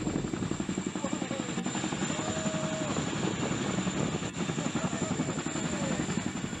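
A US Army CH-47 Chinook helicopter flies close by, its twin rotors throbbing in a fast, steady chop under a constant high engine whine, loud and unbroken throughout.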